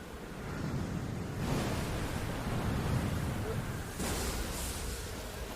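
Animated water and waves from a Zelda video game trailer, a broad, steady wash of surf-like noise that swells a little midway, heard fairly softly and continuously.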